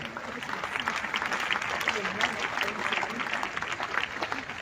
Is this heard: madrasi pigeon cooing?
no